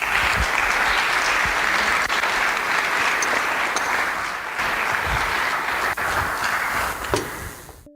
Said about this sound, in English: A round of applause for those who have shared stories.